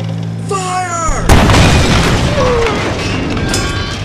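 A tank cannon fires in a toy soldier film, one sharp loud boom that leaves a rumbling explosion tail, preceded by a tonal whine and followed by lingering noise.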